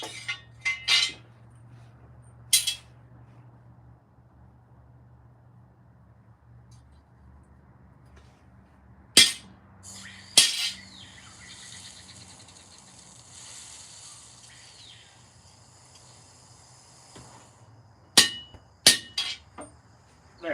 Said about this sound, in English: what you do is you grab a nail or an actual center punch. And you grab your hammer.